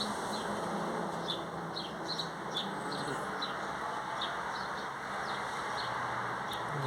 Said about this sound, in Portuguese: Casal de cardeal. Disputando seu pedaço de pão junto com os outros.